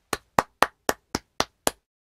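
Seven sharp hand claps land in an even, steady rhythm, crisp and close against a silent background.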